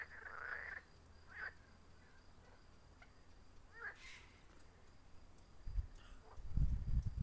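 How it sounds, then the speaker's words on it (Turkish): Scattered croaks of a Turkish marsh frog sound outdoors beside a lake and river against a steady hum of background noise, with a few low thumps near the end. "Kurbağa bağırıyor. Bu mutlaka bıldırın kurbağasıdır ha."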